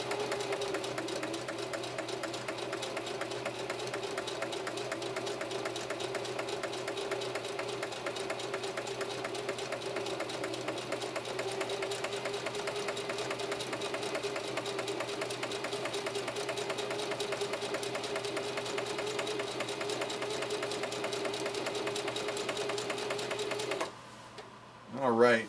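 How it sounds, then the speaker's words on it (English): A Singer Heavy-Duty 4423 sewing machine stitches steadily through four layers of denim, giving a long, even mechanical drone with a rapid rhythmic clatter, close and moderately loud, before it stops abruptly near the end. "we've done a lot of stitching on this 4423"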